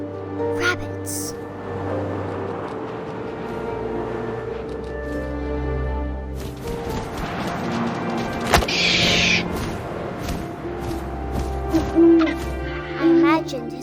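An owl's hoot rings out in the video game What Remains of Edith Finch, a soft call amid wind, ambient game music and layered effects, while a person talks over much of the scene.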